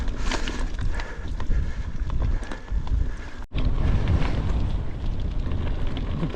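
Strong gusting wind buffets the microphone during a road cycling ride near Thélus, a heavy low rumble with shifting roar and brief dropouts, loud and continuous with no talk.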